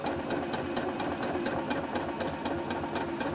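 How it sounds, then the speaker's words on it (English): Sewing machine running steadily through a counted stitch seam, worked from the side, with a fast even needle clatter and a continuous motor hum, close and alone. "I'm sewing from the side, which is a little bit more difficult"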